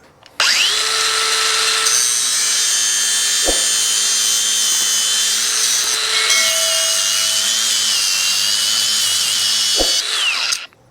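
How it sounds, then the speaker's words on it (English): An angle grinder shrieks steadily as it grinds the clips off old horseshoes, a loud continuous whine for about ten seconds with the pitch shifting as pressure on the steel changes. "First thing I need to do is grind these clips off here because we don't need those."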